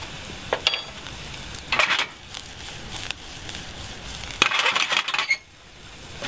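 Mace and ground allspice fry in a pan in a hotel kitchen, a soft sizzle broken by a few bright metallic clinks and brief bursts of scraping from a spoon against the pan.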